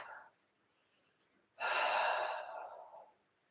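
A slow, breathy exhale through the mouth during a guided relaxation, preceded by a brief soft intake, close and quiet.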